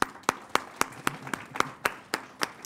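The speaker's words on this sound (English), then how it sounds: "So let's give them a round of applause." Sparse applause at a supplier diversity conference: about ten distinct, evenly spaced claps ring out alone, fairly close and crisp, with no talk over them.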